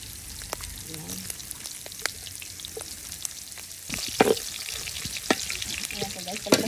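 Ginger sautéing in a pan with crisped meat for ginataang puso ng saging, a constant close sizzle punctuated by sharp spatula scrapes and taps, growing louder partway through, with someone talking quietly over it.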